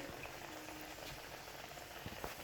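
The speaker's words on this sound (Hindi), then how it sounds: "इस तरह हमने 2-3 पीस डालने हैं, ज़्यादा नहीं डालने, ताकि ये अच्छे से जो है ना फ्राई हो जाए" Chicken pieces for zinger burgers deep-frying in hot oil, giving a steady, faint bubbling sizzle that crackles continuously and evenly with no talk.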